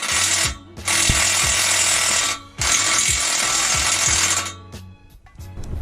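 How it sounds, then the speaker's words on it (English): Power drill or impact tool whirring loudly in bursts during a Roush Extreme catback exhaust install on a car, with brief pauses between long runs and a stuttering finish. "Okay, the drill was stupid."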